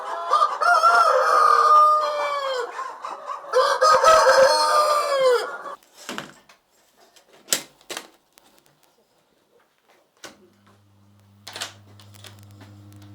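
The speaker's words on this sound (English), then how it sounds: "Air in Wakiso is thick with the sound of clacking birds and hum of incubators." Chickens on a busy Ugandan poultry farm in Wakiso cluck and crow loudly for several seconds, then the birds trail off into scattered sharp clicks and a low steady hum from incubators.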